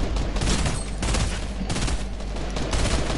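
Fortnite gunfight with a sniper rifle amid heavy shooting, loud dense volleys of shots and booming reports rolling together in clustered bursts, close and continuous without talk.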